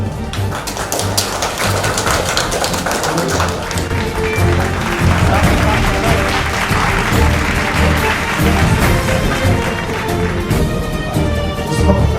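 Loud applause at a hospital inauguration ceremony, dense continuous clapping from a large crowd mixed with voices and music, lasting about twelve seconds.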